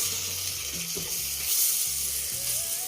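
Leftover broth from earlier cooking goes into a pan of beef being cooked with cooking cream, giving a steady soft sizzle and hiss close by with faint clinks.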